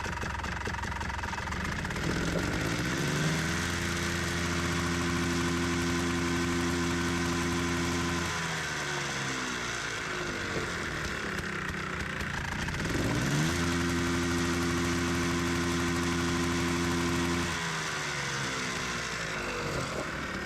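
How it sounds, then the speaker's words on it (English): A 1985 Honda Odyssey 350 FL350R engine idles steadily in neutral, with two longer stretches of raised revs, each holding for several seconds before dropping back to a rough, close, continuous idle. "Just run it in neutral a little bit and just watch those clutches"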